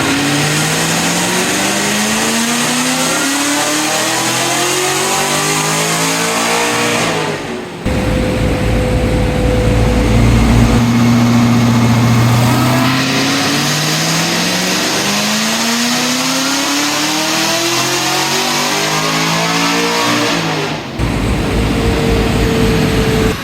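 A supercharged car engine fitted with a Magnuson 2650 blower and running on E85 revs up in repeated loud pulls, its pitch climbing steadily with a brief lift between runs, heard close with no talking.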